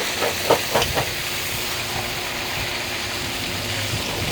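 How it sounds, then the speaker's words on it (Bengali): Chicken fries in a large wok at a highway dhaba, a loud steady hiss of sizzling oil with a few brief clanks near the start. "চিকেন ভাজা হচ্ছে"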